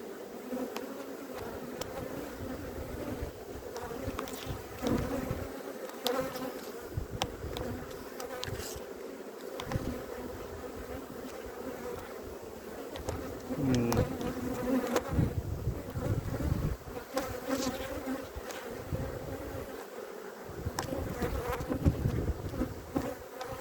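A swarm of honey bees from a bee tree, being transferred into a hive, buzzes continuously and densely up close, a steady unbroken drone with slight swells in loudness and no talking.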